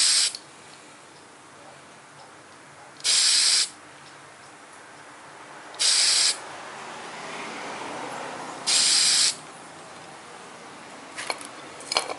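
Three separate short hissing bursts of spray paint being applied to a model, each lasting about a second, close and loud against a quiet background with faint handling noises.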